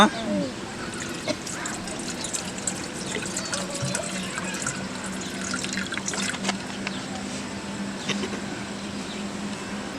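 Water trickles and splashes continuously, like liquid being poured into a container, with scattered clinks and background voices.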